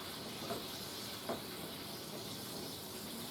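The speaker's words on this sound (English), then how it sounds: "So it's steaming and bubbling" Steady broadband hiss and sizzle of liquid bubbling and steaming as a hot pan of garlic butter chicken is deglazed, with a couple of soft pops, close and continuous.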